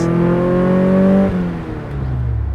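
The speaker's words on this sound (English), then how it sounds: "I don't need to downshift, but I'm gonna" A 1996 British Racing Green Mazda MX-5 engine revs loudly and up close with a steady rising tone during a downshift, then drops away and settles back into a lower drone.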